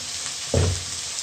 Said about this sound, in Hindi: अब इनको हल्की आंच पे फ्राई करना है प्याजों को।